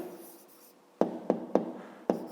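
Pen on paper writing out a math answer by hand, a faint soft scratching followed by four sharp taps or strokes in an uneven rhythm, close and quiet.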